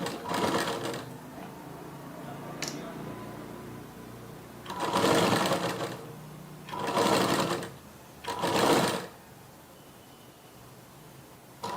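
A sewing machine stitches lace onto the back neck of a blouse, running in several short, close bursts separated by quiet pauses.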